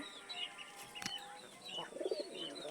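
Black-and-white pigeons coo softly nearby, low throaty coos repeating irregularly, with a few faint chirps and a brief flutter in the background.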